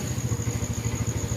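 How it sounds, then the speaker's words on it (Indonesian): A motorcycle engine chugs steadily with a low, pulsing putter, moderately loud and fairly close, under a constant high whine and with no talk over it. "ada suara motor, bentar ya."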